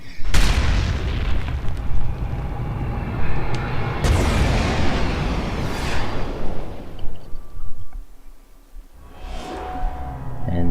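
Cannon hits exploding in the video game Dragon Quest Builders: several loud, booming blasts that crash in at intervals, each followed by a rumbling decay, with a tonal background sound between them.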